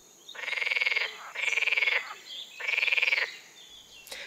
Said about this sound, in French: le chant d'une grenouille verte ressemble au bruit d'un élastique tendu qu'on aurait relâché subitement